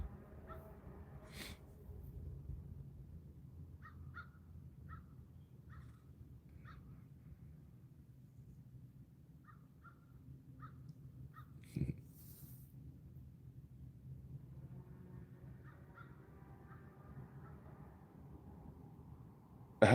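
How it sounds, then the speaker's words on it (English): Faint crows caw in short, spaced bursts from a distance over low outdoor rumble at an ice-fishing spot, with a few sharp knocks. "Looks like the crows are having a powwow over there on the other end of my traps."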